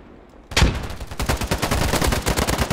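Rapid automatic gunfire in a free first-person shooter video game, starting abruptly after a quiet moment and continuing as a loud, steady stream of closely spaced shots.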